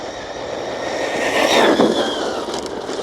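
An Arrma RC car races past at top speed on a road, its high-pitched electric motor whine rising and peaking as it passes close, then fading slightly, with loud rushing tire noise.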